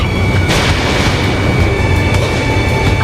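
A missile fires from a fighter jet in Ace Combat 7, a loud, sustained roaring burst with booming rumble that fills the whole moment, no voices over it.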